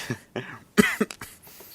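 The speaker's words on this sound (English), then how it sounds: "Don't mind my coughs." Several raspy coughs close to the microphone in an indoor setting, uneven bursts with a throat-clearing rasp between them.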